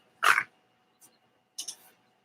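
Dogs barking close by, one loud bark followed by a faint yip and then a shorter double bark, with quiet gaps between.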